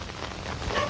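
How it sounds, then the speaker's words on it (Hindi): Heavy monsoon downpour, a steady dense hiss of rain on surfaces, close and fairly loud, filling the whole brief moment without voices. "बारिश हो रही है बहुत"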